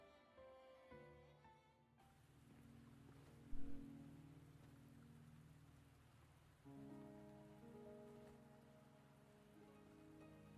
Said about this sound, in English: Regular rain.